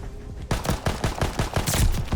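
1911 pistol gunshots in Call of Duty Vanguard: a rapid series of about nine sharp shots close together after a brief lull, loud and without talk.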